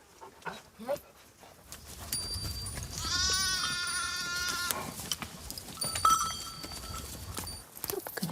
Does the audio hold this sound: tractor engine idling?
no